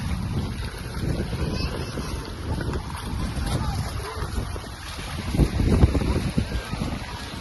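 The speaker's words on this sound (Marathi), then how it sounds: "मस्त हवा चालू आहे." Wind blows outdoors at Lonavala's Tiger Point, a steady broadband rush and buffeting across the microphone, swelling slightly toward the end, with no clear talk.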